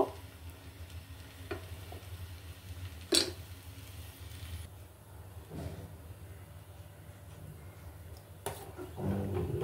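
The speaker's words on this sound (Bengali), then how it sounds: "তাকে অল্প নেড়ে চেড়ে নিয়ে আমি এটাকে গুঁড়ো করে নেব।" Rice being stirred in a pan while cooking for kesar badam phirni, a sizzling, scraping stir with a few sharper clinks, steady and close, no voices.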